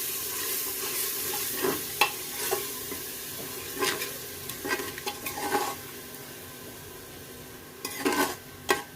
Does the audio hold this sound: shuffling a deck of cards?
no